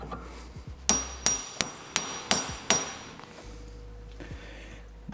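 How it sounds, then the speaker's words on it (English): A hammer strikes a car part on a half shaft job: six sharp metallic blows at an uneven pace, loud and close, each ringing briefly over a low background hum. "I have a hammer here."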